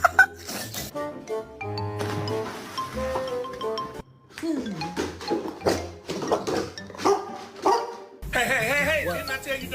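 A dog growls and barks in a run of short, uneven vocal bursts, close by, with people's voices mixed in between.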